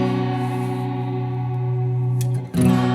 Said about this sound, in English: let's say I want to add a shimmer reverb as well